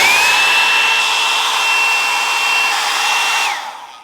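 A hot air brush blow dryer running on its highest heat and strongest setting, a loud, steady, close-up whoosh with a constant whine that holds for over three seconds, then cuts off and fades.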